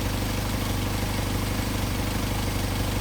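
A Mercedes 190SL engine with Solex carburetors idles steadily and loudly up close, a continuous even drone with no talk over it.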